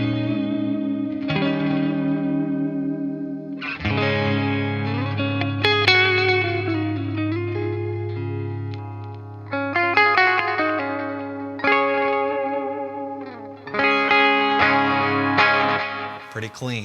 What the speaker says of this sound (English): So here's the clean tone on the neck pickup.